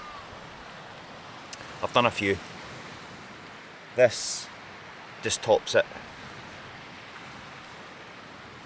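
Steady broadband wash of sea waves at a wild camping beach in Scotland runs throughout, low and constant beneath a person's intermittent close talk.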